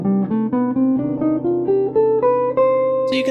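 Single guitar notes of a melodic minor scale climb steadily upward one at a time in an even rhythm, played clearly and alone.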